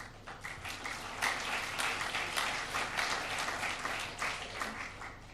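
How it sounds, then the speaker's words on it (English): An indoor audience at a public evening event on water and the city gives a round of applause, a moderate, steady patter of many hands rising and falling over several seconds. "Ladies and gentlemen, what about a round of applause for those people who have made these conversations happen?"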